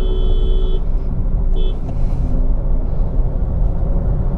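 A 2022 Honda City V base model cruising on the road, with a steady loud low rumble of engine and tyre noise from inside the cabin and a few faint high tones early on, no voices.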